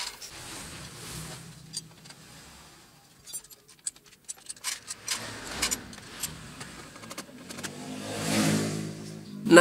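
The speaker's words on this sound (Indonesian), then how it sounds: "Yang penting bunyi-bunyi kayak plat kendur gitulah, kretek-kretek-kretek-kretek, kadang juga kayak gitu" Honda Beat FI scooter with a rough starter and CVT rattling like a loose plate, a nearby engine with irregular metallic clinks and clatter as it revs, no talk.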